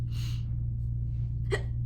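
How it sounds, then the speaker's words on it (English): A single short hiccup cuts through a steady low hum near the end, with a soft breathy sound earlier. "Hiccups are part of clearing."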